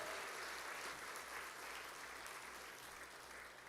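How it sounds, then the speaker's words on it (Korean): A crowd applauds steadily, a dense wash of many hands clapping at once that holds level from start to finish. "다들 힘찬 박수를 한번 격려하겠습니다"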